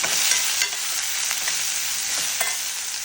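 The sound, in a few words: stirring mango masala with Kashmiri chili powder in pan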